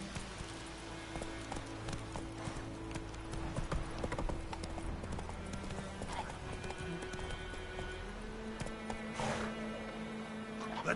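Rhythmic horse hooves clip-clop steadily during riding in The Witcher 3 video game, loud and close over layered game music and ambience, with an occasional whinny.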